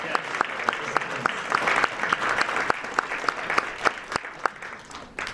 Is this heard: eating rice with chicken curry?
no